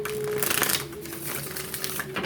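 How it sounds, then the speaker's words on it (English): A quick riffle of tarot cards being shuffled, a crisp rattling burst up close, with a steady hum underneath throughout. "Give this a quick shuffle here."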